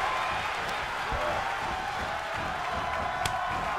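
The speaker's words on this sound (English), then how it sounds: "The sound of this crowd is deafening" An arena crowd in WWE 2K23 roars in a steady, loud wash of cheering and clapping during a wrestling match, with dull impacts under it.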